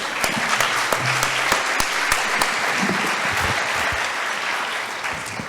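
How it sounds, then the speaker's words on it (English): Audience applause closing a panel session at a conference on improving access to treatment options, a dense, steady wash of many hands clapping at close range, sustained throughout with no talk over it. "Big round of applause."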